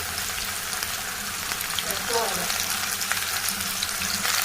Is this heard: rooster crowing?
no